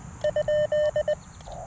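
Morse code sidetone from CW keying on a Xiegu G106 radio on 40 meters: a clear steady tone beeps in a quick run of short and long elements, close and clean over faint background hum.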